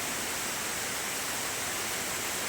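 Bathing waterfall at Kalasapadi near Harur, a constant, even rush of falling water with no breaks, steady and moderately loud, with no voices.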